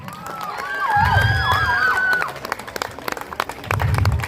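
An audience claps at an event. Scattered applause swells, then breaks into uneven claps. Birdlike whistles and chatter run underneath, and the clapping rises again at the end.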